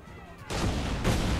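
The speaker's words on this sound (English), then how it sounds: "Big explosions, big explosions." Big explosions from the Assassin's Creed III video game, a sudden loud burst of booming gunfire-like blasts that jumps in and stays dense, with a second surge near the end.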